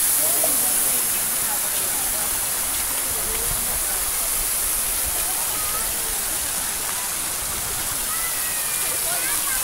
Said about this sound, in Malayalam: ഇവിടെ മ്യൂസിക് ഒന്നുമില്ല കേട്ടോ. വെറും വെള്ളച്ചാട്ടം മാത്രമേ ഉള്ളൂ.